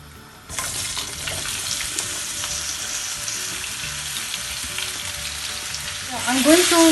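Diced potatoes fry in cumin seeds and oil over a medium flame for a spring onion and potato sabji. A loud, steady sizzle starts after half a second and swells brighter near the end with light utensil clatter.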